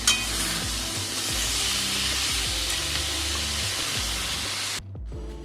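Spinach fried in mustard oil is stirred in a hot pan. A dense, loud sizzle with repeated scraping strokes runs for several seconds, then drops off sharply near the end.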